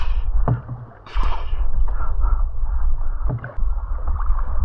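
Paddles stroke the water of a kayak on the sea near Koh Kradan, with steady splashing and gurgling under wind noise, close to the microphone and without speech.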